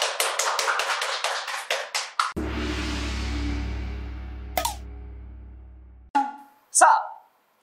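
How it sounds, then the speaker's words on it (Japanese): A quick run of sharp hand claps in applause on a Japanese variety show, about a dozen crisp hits over two seconds, followed by other studio sounds and a few isolated taps. "拍手。"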